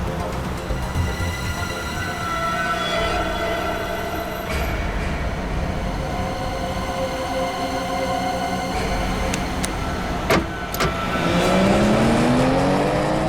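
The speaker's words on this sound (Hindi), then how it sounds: "स्लो चलाओ गाड़ी" Car driving fast, loud steady engine and road roar rushing past, with a rising whine near the end and a couple of sharp knocks, no voices.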